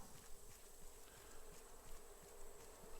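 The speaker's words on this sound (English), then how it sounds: "When you hear the sound of the bees humming, just look for these." Bees hum in the survival video game Raft, a faint, steady buzzing drone with slight pulsing, quiet and continuous with no one speaking.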